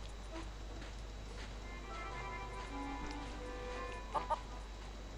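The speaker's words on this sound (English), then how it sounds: "do not touch the feral chickens." Feral chickens in the video game The Curse of Monkey Island cluck in short, scattered bursts over a steady background hum, with a couple of sharper clucks near the end and no talking.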